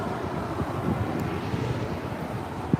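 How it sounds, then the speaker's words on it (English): A Delta Airbus A321neo at Los Angeles airport, a low, steady jet rumble with wind noise, fairly distant and unbroken, with no one talking. "Here we have an A321neo from Delta."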